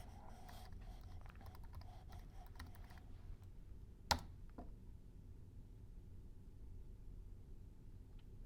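A password is typed on a MacBook keyboard as a quick run of soft key clicks for about three seconds, then one sharp louder tap and a few faint clicks over low background hiss.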